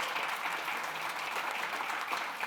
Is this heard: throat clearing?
no